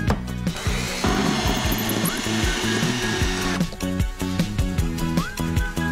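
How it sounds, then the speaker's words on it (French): A power drill turns a screw extractor to back out a stuck screw, its motor whining in sustained bursts with pitch rising and falling and a brief harsher grinding stretch in the middle, loud and close with no talking. "Puis, installez l'extracteur de vis"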